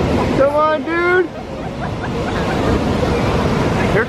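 Ocean surf in Bali washes and rumbles continuously, with wind buffeting the microphone; a voice shouts briefly at the start.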